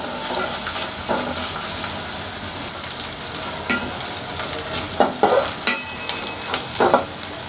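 Chopped onions and garlic fry in a pan for a Bengali cauliflower and red lentil dish, a steady close sizzle broken by scraping stirs of a spatula, with no talk.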